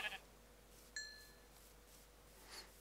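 A Minecraft sheep gives a short, faint bleat over quiet background, with a light clink partway through.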